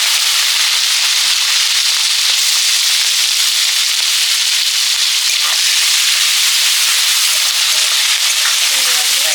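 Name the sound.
shrimp frying in oil with five-spice and turmeric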